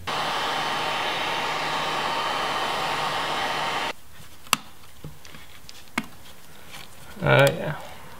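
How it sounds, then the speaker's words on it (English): A heat gun blows a steady, hair-dryer-like roar while warming a Jeep XJ side mirror, then cuts off, leaving a few faint clicks and a short handling rustle. "I used that heat gun to heat it up."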